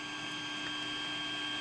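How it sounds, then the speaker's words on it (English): A 3D printer, a CNC-style machine with a plastic extruding head, runs with a steady mechanical hum and faint whining tones, continuous and even throughout with no voices. "If those people haven't seen a 3D printer working"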